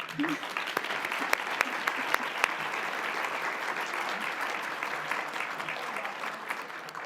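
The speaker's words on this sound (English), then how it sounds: "Ladies and gentlemen, let's give a warm round of applause for my friend, Dr. Renee Mitchell." Audience applause at an MLK breakfast event, steady dense clapping through about seven seconds with a few sharper individual claps standing out near the start, moderately distant and fairly quiet overall.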